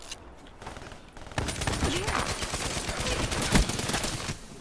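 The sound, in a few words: gunfire in Call of Duty: Black Ops III video game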